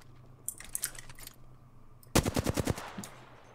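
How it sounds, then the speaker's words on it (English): Gunfire in the video game Apex Legends: a few scattered shots, then a fast burst of about six or seven loud automatic rounds near the end, over a low background hum. "I'm just going to shoot into the distance."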